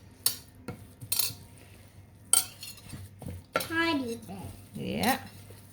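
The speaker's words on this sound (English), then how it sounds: "Now mix all that together really well" Oat mixture stirred with a utensil in a bowl, giving scraping, clinking strokes at an uneven pace, close up, with brief voices and a child's speech between the strokes.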